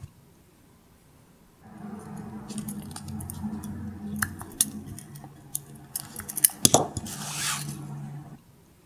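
Wire for a wire-wrapped hammered heart ring is snipped, with a few small, close clicks and metallic ticks over a low background hum, then a sharper snip and rustle.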